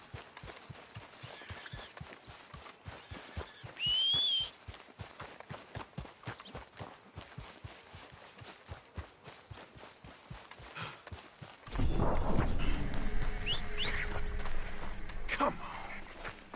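A horse in Red Dead Redemption beats out a steady rhythmic run of hoofbeats, fairly close and moderate in level, then a louder rush of wind and motion near the end takes over.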